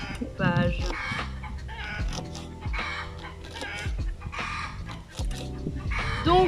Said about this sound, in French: comme vous pouvez entendre, j'ai une poule qui a pondu